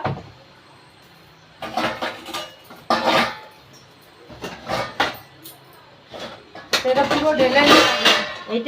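Bowls and a kadai clatter and knock in bursts as leftover dinner is put into a home fridge. The clinks and thuds grow busier toward the end, with voices talking among them.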